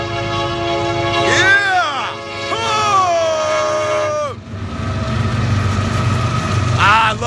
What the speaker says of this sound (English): We got a train coming up in the dream.